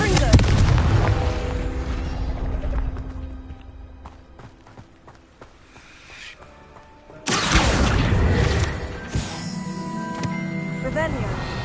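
In Hogwarts Legacy, the Confringo fire spell bursts loudly alongside other game sounds, with a heavy blast at the start that decays, then a second sudden loud eruption partway through that rumbles on, set among rapid clattering effects and game noise.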